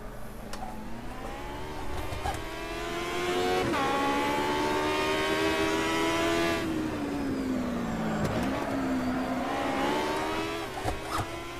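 Aussie Racing Car engine in the sim racing game Automobilista Beta, a steady high-revving race engine rising and falling through gear changes, with a brief dip near eight seconds and no talking over it.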